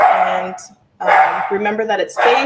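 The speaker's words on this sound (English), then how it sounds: "Sorry about my dog barking." A dog barks in short bursts at home while a person keeps speaking over it, the barks partly masked by the talking.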